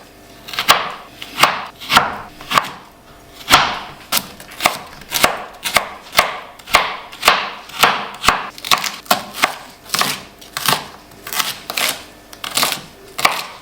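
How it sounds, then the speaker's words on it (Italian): A knife chops rapidly on a cutting board, mincing a battuto of vegetables, steady rhythmic strikes close up, repeating for over ten seconds with no talking. "Il battuto lo possiamo tritare anche grossolanamente"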